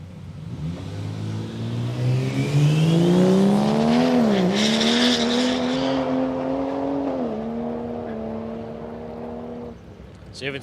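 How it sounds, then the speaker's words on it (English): A Barra-engined Skyline drag car launches at Palmyra Raceway in Australia, its engine note climbing loud and steady with wheelspin as boost builds, then fading as it pulls away. "You can hear it fighting the wheels out there as it gets on the concrete as the boost starts to come up in the Barra-powered car"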